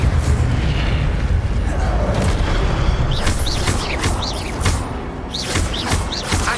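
Incendio fire spell casts in Hogwarts Legacy, loud roaring whooshes of flame with repeated bursts through the clip, mixed with dense game combat noise and chirping accents.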